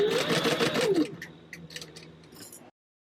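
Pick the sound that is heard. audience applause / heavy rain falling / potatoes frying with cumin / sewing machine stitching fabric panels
sewing machine stitching fabric panels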